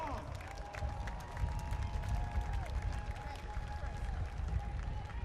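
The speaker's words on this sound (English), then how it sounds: "Organized labor, y'all, give them a round of applause." A march crowd outdoors at a Washington protest against racism applauds and cheers organized labor, a dense wash of clapping and voices that stays steady, with a voice audible over the noise.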